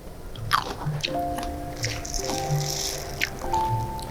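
Crisp bites into a crunchy Taladun grape, not fully ripe, at a vineyard: a few sharp crunch transients followed by wet chewing and squishing, close up, with faint background tones and no talking.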